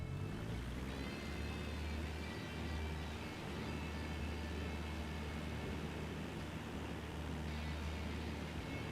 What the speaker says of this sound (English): Let's rev the engines.